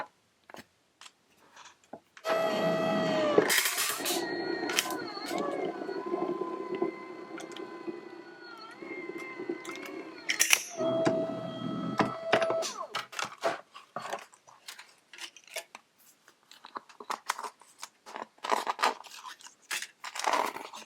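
A die-cutting machine cranks a die and paper through its rollers for cardmaking, giving long droning grinding passes with a whining tone, followed by scattered clicks and rustling handling noises.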